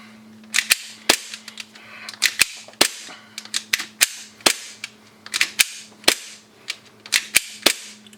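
An airsoft pistol fitted with a strong recoil spring fires about twenty sharp, snappy shots in irregular bursts, each crack clear and close against near-silence.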